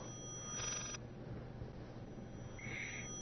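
A video game telephone rings in two short, shrill, electronic bursts separated by a pause, fairly quiet over a low background hum.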